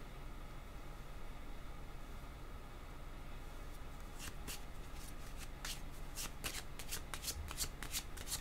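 Tarot cards being shuffled by hand, heard as a quick series of crisp, close riffles and flicks over a steady low background hiss, starting after a few seconds of near silence.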